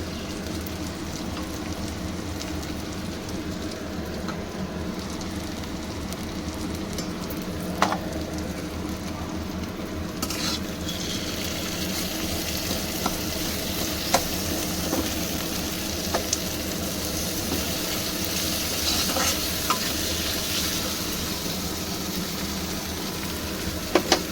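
Tomatoes with salt sizzling steadily in a frying pan, a continuous close hiss broken by occasional scrapes and knocks of a stirring utensil.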